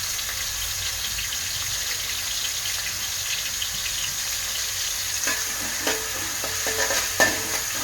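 Onions and curry leaves sautéing in a pan for mushroom fried rice, giving a steady dense sizzle throughout with clearer stirring scrapes and clatters building near the end.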